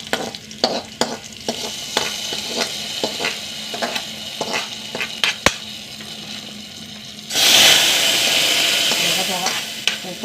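Curry leaves, dried red chillies and onions frying in hot oil: clear stirring clatters and light sizzling, then a sudden loud, sustained hiss of frying that dominates the final seconds.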